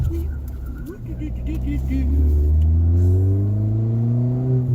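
A Ford Fiesta ST in eco mode pulls away from a green light, its engine note rising steadily and loud with a climbing rumble through the whole stretch, close to the listener and heard from inside the car.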